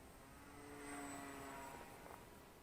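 Volantex P51D Mustang Red Tail RC warbird with 750mm wingspan on 3S power, its electric propeller drone holding a steady buzzing whine as it flies past at moderate distance.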